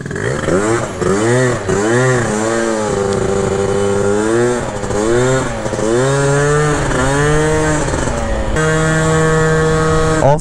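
A Honda Elite DIO 72cc scooter with upgraded 36-gram rollers on a test ride, its small engine buzzing loudly and close with repeated rising and falling revs, then climbing steadily to a high sustained whine near the end.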